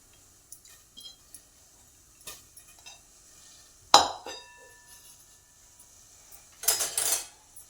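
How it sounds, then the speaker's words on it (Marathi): Washed moong dal lentils tipped into a metal pressure cooker, with a few scattered metallic clinks and then a short, louder rattling pour of grains near the end. "आता आपण डाळ कुकरमध्ये टाकून घेऊ"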